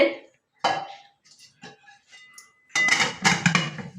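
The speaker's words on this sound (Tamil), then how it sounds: "மூடி போட்டு மூடிடணும்" A lid set down on a cooking pot of black rice puttu, two clattering metal clanks of pot and lid ringing out close and fairly loud after some quieter kitchen sounds.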